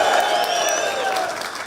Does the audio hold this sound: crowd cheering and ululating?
yes